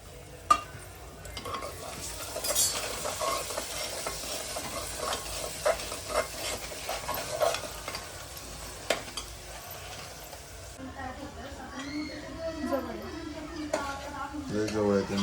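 Masala with tomato for rajma rice (masale bhaat) is stirred and fried in a pan, with a steady sizzle under scraping stirs and occasional utensil clinks. Someone talks throughout.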